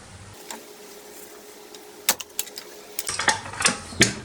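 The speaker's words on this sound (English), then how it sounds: "I'm just going to take off those clamps. Now you're just going to have to give them a bit of a wiggle." Hose clamps being worked off a catch can hose on a D22 Navara, with sharp metallic clicks and clinks, scattered at first and then a busier run of close rattling snaps.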